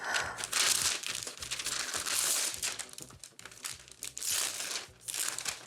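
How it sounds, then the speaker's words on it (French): Gift wrapping paper being torn open and crumpled, a dense run of loud, close crinkling and ripping in bursts that continues throughout with no talk. "Vous pouvez ouvrir, déchirer comme vous voulez."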